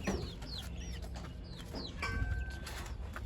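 Chickens and small chicks on a small farm give scattered high peeps and low clucks close by, with short chirps overlapping throughout.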